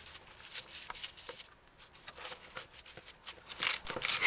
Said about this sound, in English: However, I like to use a cooking scissors.